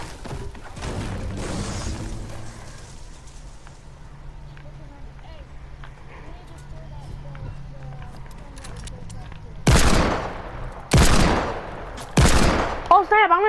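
Gunfire in the video game Fortnite, three loud sharp bursts of shots near the end after a stretch of quieter game ambience with faint tones and clicks.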